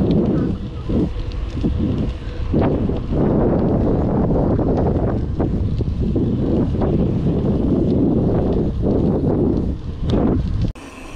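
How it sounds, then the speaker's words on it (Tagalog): Strong headwind buffets the microphone while cycling at night along Airport Road in Singapore toward Changi Beach Park, a loud continuous roar with gusty surges that cuts off sharply near the end. "Medyo bangga tayo sa hangin sa lubong"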